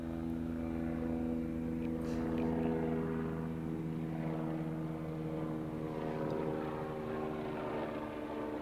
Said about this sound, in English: My helicopter's come to pick me up.